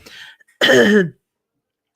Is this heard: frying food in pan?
no